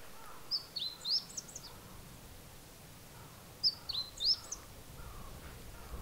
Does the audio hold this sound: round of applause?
no